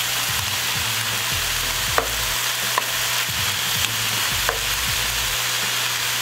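Food stir-fried in a small wok for a Chinese buffet-style meal at home, a steady loud sizzle broken by scraping strokes of the spatula and a few sharp clinks against the pan, with no talking.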